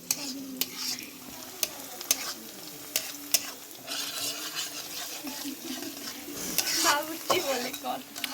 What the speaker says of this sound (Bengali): ওইটা কিন্তু অনেকক্ষণ ভাজতে হইব, না ভাজলে কিন্তু ভিতরে সিদ্ধ হইব না